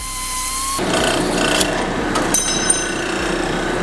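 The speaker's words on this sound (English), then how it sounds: "Gotta smooth the burr out off the back." Hand filing a burr off the back edge of freshly fabricated hot metal for an overland camp table, a steady close rasping scrape with a few sharper clinks, heard alone.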